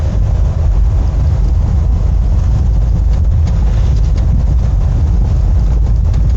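Camper van engine running steadily during a road test; a loud, continuous low rumble and drone of the motor under way, with no talk.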